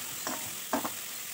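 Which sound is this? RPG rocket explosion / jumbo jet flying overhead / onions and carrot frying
onions and carrot frying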